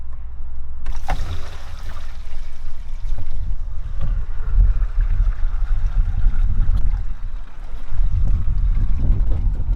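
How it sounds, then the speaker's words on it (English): Water rushes steadily through an RV black water tank flush after the lever is pulled, a continuous low churning roar lasting the whole stretch, with no talk. "you will pull this black lever out, and as soon as you do that, you will hear it flushing"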